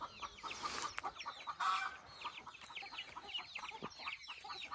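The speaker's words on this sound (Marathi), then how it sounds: "कोंबड्या करते talk talk talk talk talk talk" Hens cluck on a farm, a quick series of short, repeated clucks at moderate distance with a brief louder burst, with no voices.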